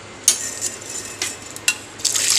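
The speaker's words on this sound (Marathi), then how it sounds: "ही डाळ अशी गाळून घ्यायची" Cooked chana dal is strained in a kitchen, with a few sharp metallic taps and scrapes of utensils followed by a soft, rising hiss of pouring, close and moderately quiet.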